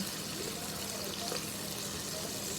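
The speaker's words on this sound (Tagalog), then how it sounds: "So yan, lutuin natin. Gisa lang natin." Carrots, cauliflower, cabbage and beans sauté in a pan for a Filipino ginisang gulay: a faint, continuous crackling sizzle with soft stirring, heard alone and at low level.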